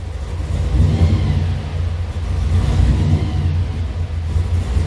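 V8-style engine of a 1955 Chevy idling steadily in a cool garage with the hood open, a loud, close, continuous rumble with slight rises in revs.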